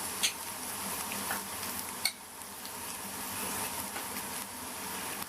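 Spices (coriander powder, red chili powder and turmeric) being stirred into a sizzling pan for a karela alo bitter gourd peel dish, with steady frying hiss and a few light scrapes and clinks of the spoon.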